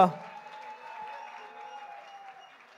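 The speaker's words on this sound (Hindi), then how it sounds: "सभी जोरदार तालियां" Applause from a large crowd at a film music launch event, soft and fairly distant clapping after a brief loud onset, with a sustained musical tone and faint voices underneath.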